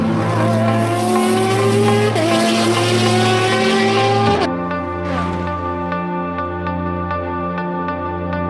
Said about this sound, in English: This is endurance racing. This is the 24 hours of Le Mans.